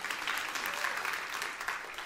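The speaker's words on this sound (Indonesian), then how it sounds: "tepukan yang meriah untuk kemuliaan Tuhan" Church congregation applauding during a sermon, a steady, even wash of many hands clapping together at moderate volume throughout.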